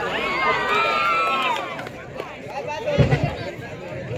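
Crowd cheering and clapping at a village kabaddi match in Tamastirth, Dapoli: loud overlapping shouts and hubbub, with a burst of sharper claps and yells near the end.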